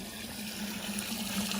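Water pours steadily into an animal drinking trough in the Texas heat, a continuous rushing fill with a faint pump-like hum underneath and no voices.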